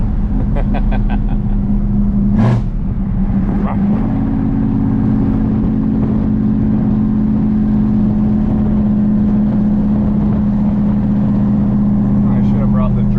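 A 1973 Dodge Dart crew cab engine drones steadily as it drives on city streets, with a brief rising rev early on before settling into a constant, loud rumble that continues throughout.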